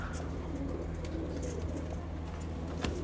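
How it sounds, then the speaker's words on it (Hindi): A Bateray pigeon cooing nearby, soft low repeated coos over a faint background hum, with no talking. "ये बटेरा कबूतर है"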